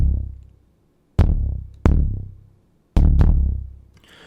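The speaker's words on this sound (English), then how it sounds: "very bassy synth with some like pitch modulation and some LFO" Isolated bassy synth kick from an indie game track, shaped with pitch modulation and LFO: four deep booming hits, each with a sharp attack and a long, sliding decay, played alone with gaps between.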